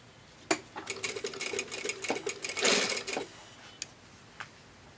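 A sewing machine edge stitches fabric in a short, quiet burst of rapid whirring lasting a couple of seconds, bracketed by faint clicks.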